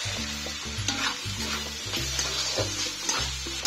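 Chopped onion frying in oil in a pan for egg and prawn fried rice, with steady close sizzling broken by repeated scraping stirs and a low hum running underneath.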